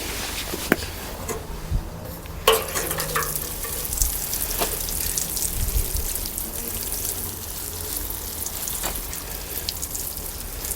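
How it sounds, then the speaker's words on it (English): Water splashes and patters steadily onto brassica plants and soil in a garden bed, with scattered louder spatters and clunks throughout. "So while they're out of the frame, I'll give them all the water."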